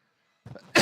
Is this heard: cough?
yes